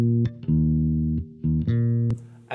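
Synth bossa bass on its own with no frequency shifter, a clean harmonic tone playing a short syncopated line of sustained notes and brief gaps, loud and alone.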